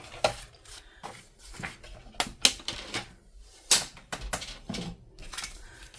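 Scissors cut through two junk mail paper envelopes at once for a Christmas craft, producing a close, irregular series of sharp snipping clicks and crisp rustles with short pauses between cuts.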